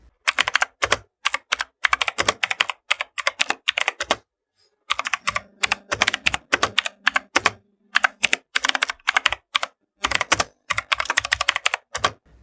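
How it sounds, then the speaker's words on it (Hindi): Rapid bursts of clicky keystrokes on a Cosmic Byte CB-GK-07 Aurora mechanical keyboard, close and crisp, typed in runs with short pauses between them and a longer gap near the middle, no talking. "एक मैकेनिकल कीबोर्ड की पहचान यानी कि उसका क्लिक साउंड सुना देता हूँ"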